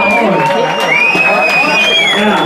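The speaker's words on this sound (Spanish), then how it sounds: "Un aplauso, por favor" Crowd at a birthday celebration bursting into applause and cheering, dense clapping mixed with excited voices and a whistle-like rising tone, loud and close throughout the short burst.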